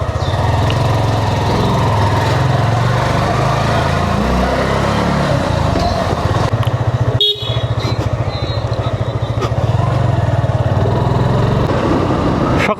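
A motorcycle engine runs steadily at the start of a morning ride, a loud continuous low drone mixed with wind rush, dipping briefly midway before resuming at full strength.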